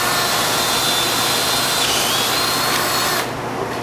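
A power drill boring a hole through plastic bumper trim: a loud, steady high-pitched whine held for over three seconds, then it drops off abruptly.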